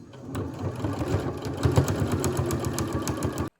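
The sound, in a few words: sewing machine stitching pockets on a quilted jacket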